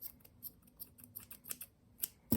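Scissors snip repeatedly while making DIY squishies, a quick series of quiet, close crisp cuts in an irregular rhythm that ends in one louder snap.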